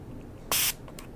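A single short, loud hiss of a spray bottle, about a fifth of a second long, with a fainter second spritz right after, over quiet background noise.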